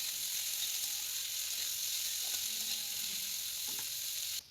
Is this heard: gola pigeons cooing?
no